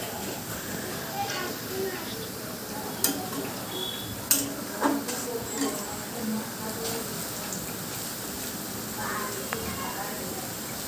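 Soft, steady sizzling of food frying in a pan, with occasional sharp clinks and faint talking in the background.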